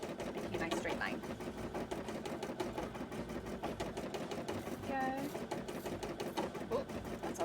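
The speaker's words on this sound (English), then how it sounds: "lot of embroidery machine noises." An embroidery machine runs steadily with a dense, rapid needle rhythm for the whole stretch, fairly close, while a person talks intermittently over it.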